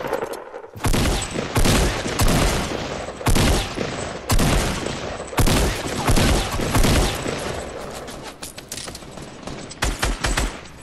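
Rapid bursts of automatic gunfire from a Fortnite match crackle loud and close, coming in dense volleys with short gaps between them throughout.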